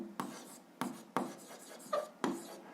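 A pen writes an algebra equation by hand, giving five or six short, close scratching strokes in an uneven rhythm with brief pauses between them.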